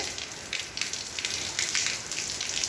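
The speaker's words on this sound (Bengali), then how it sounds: "এই যে মুসলধারে বৃষ্টি পড়ছে" Steady, dense hiss of heavy rain pouring down, continuous and fairly close, with scattered louder spatters through the noise.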